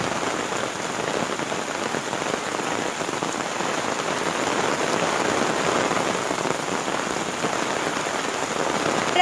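Steady rain falls beside the Ramos River near a riverside restaurant in Allende, Nuevo León, a dense, even patter on surfaces that holds without voices.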